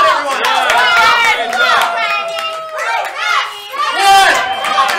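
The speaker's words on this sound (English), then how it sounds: "Cheer them on, everyone!" Audience at a live gameshow cheering and calling out during a timed challenge, excited voices overlapping in a lively, continuous crowd noise with shouts rising and falling.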